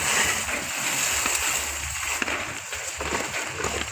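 Food for a Thai sweet dessert rinsed by hand in a basin of water: continuous close sloshing and splashing with small drips, steady and moderately loud throughout.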